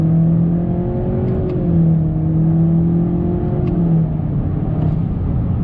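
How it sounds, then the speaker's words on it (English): A 2019 Honda Accord Sport 1.5T pulling through simulated paddle-shift gears, its engine giving a loud, steady interior drone whose pitch climbs and then steps down at each shift, with a faint click or two. "let me go ahead and play around with the manual paddles here"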